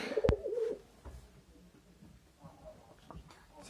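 Pigeons give a close, clear burst of cooing at the start, followed by quieter, scattered bird sounds and faint background noise.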